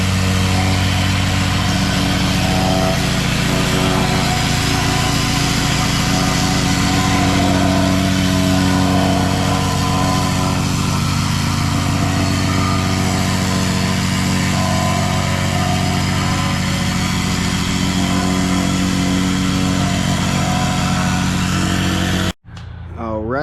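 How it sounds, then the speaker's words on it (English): Plate compactor working a layer of 57 limestone base rock for a flagstone patio, a loud, steady engine drone with constant vibration that holds throughout, then cuts off abruptly near the end. "went over it multiple times with the compactor"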